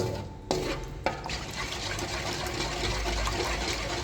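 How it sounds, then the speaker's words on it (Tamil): A spoon stirs and scrapes softly in a pan of milk and maida white sauce with a low simmering hiss, two sharper knocks near the start, fairly quiet and close. "ஸோ மில்க் ஆட் பண்ணி இதை நல்லா கிண்டி விட்டுறலாம்"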